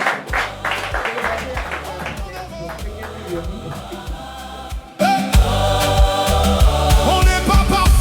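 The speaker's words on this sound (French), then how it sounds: "On applaudit très fort, mesdames et messieurs." Audience applause at a charity giving event in a French-speaking hall, bursts of clapping and taps mixed with music and a voice, then growing louder and fuller toward the end.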